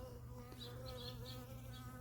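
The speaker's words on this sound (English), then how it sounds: "You can see bees going in and out of them even while I'm holding the frame here." Honey bees hum close by at an open top bar hive during an inspection, a soft, steady buzzing drone with individual bees briefly swelling louder as they fly near.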